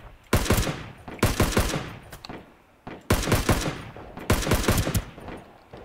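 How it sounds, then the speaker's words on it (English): Rapid automatic gunfire from a firefight in the video game Ring of Elysium, two long bursts of dense, loud shots with a brief pause between them and no talking. "Oh, I'm shooting at him."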